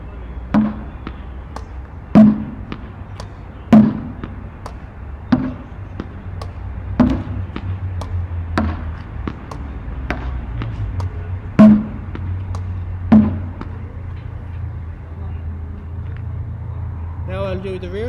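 Tennis ball struck with an Aussie backhand grip on the front side of the handle, hit as flat, low-topspin shots: sharp, separate impacts every second or two, fairly close over a faint background hum, with no talking.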